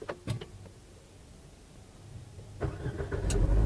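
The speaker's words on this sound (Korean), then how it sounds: "브레이크 페달 밟고 시동 버튼 한번 누르면은" A Renault QM6 LPG SUV (2021) starts at the push of a button, with soft clicks and cabin sounds first, then the starter cranks and the engine catches and settles into a growing idle rumble near the end.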